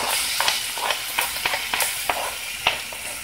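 Half an onion and garlic cloves frying in coconut oil in a pan, a steady loud sizzle broken by regular sharp scraping stirs, close up with no talking.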